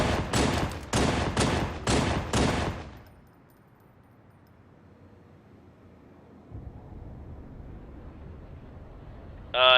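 Gunfire in a Halo machinima scene, a rapid burst of about six loud, evenly spaced shots, followed by a quiet low ambient rumble.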